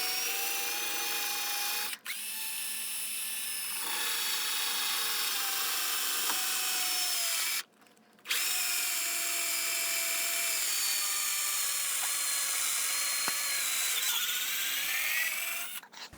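Power drill boring a pilot hole while rebuilding a lift-out bridge, a steady high-pitched whine running almost continuously and loud, with one brief stop midway before it resumes.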